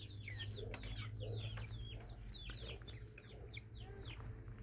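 Chickens and young chicks on a small farm cluck and cheep in quick, overlapping bursts, moderately close over a steady low background hum, with no talking.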